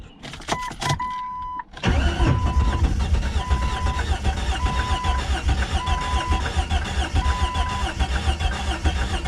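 A worn Jeep Cherokee XJ cranks briefly, then catches and runs at a rough, loud idle, its engine straining after hauling a heavy load of scrap, with a steady beeping chime over it.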